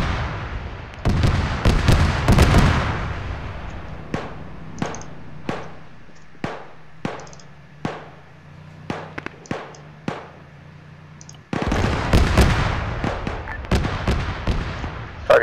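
Helicopter guns in a combat video game fire in loud bursts at a vehicle, a dense stretch of rapid fire, then single spaced shots, then another heavy sustained burst, with no voices over them.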